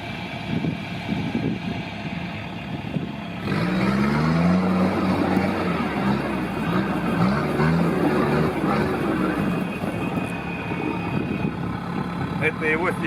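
A Sherp amphibious all-terrain vehicle's engine idles with a steady low rumble, growing louder partway through, while people talk over it outdoors in Yakutia.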